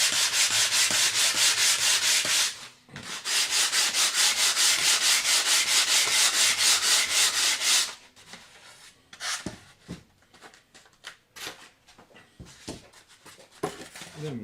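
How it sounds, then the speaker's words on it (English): Foam edges on a model aircraft wing are sanded by hand, a loud, close, steady rasping of rapid back-and-forth strokes that pauses briefly, then gives way to quieter, scattered rubbing and handling noises. "I'm just going to sand these swirling edges."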